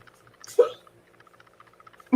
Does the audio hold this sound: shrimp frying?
no